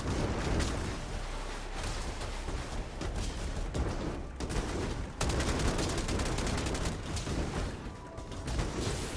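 Sustained gunfire from a Starfield firefight, dense rapid shots and bursts packed together with hardly a break, loud and close for the whole stretch.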